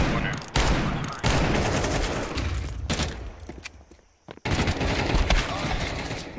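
Rapid, loud video-game gunfire in a tournament playoff match: dense bursts of shots run almost continuously, with a short lull near the middle before the firing resumes, and a voice talks faintly underneath.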